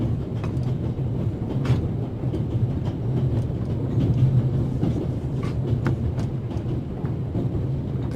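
A steam train in the game The Raven rolls along steadily with a continuous low rumble and faint rhythmic clatter from the carriages. It is heard from inside a passenger car, with no voices.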